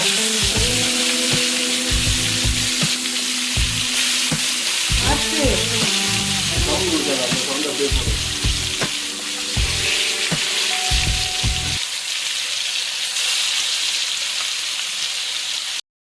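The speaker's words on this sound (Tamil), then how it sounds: "ஒரு தோசைக்கல் அடுப்பில் வச்சு எண்ணெயை ஊற்றி இப்போ நம்ம வந்து மீனை வறுக்க போகிறோம்." Masala-coated fish fries in oil on a dosa griddle with a loud, continuous close-up sizzle. Brief clatters and tonal kitchen noises break in partway through, and the frying carries on steadily to the end.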